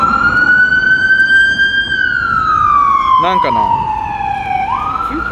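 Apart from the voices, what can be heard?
ambulance siren passing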